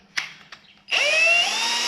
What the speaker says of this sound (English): This is an old drill.